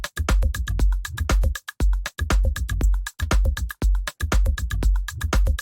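A punchy organic house drum groove with deep kicks, snappy hits and layered percussion loops repeats in a steady, busy pattern, with a few short breaks.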